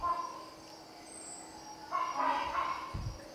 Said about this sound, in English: this is a hornbill